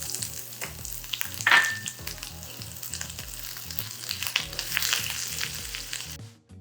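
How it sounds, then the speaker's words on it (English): Spiced oil tadka for Indian egg muffins sizzles steadily as curry leaves and green chilies hit the hot oil, a close, continuous crackling fry with a brief louder spit early on. "We're making a spiced oil, that's the tadka for our Indian spiced egg muffins. Add your curry leaves and your green chilies."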